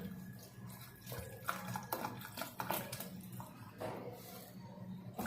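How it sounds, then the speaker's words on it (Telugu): Water is poured into a pot holding fresh mint leaves for a healthy weight-loss tea, a close, steady splashing with clinks of the pot and utensils in a quiet kitchen. "దీంట్లో మీ నీటిని బట్టి వాటర్ యాడ్ చేయండి."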